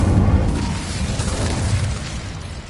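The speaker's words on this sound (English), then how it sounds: "Incendio." The Incendio fire spell bursts in Hogwarts Legacy, a loud booming whoosh of flame that hits at once and roars steadily for a few seconds, heavy in the low end, with no voices.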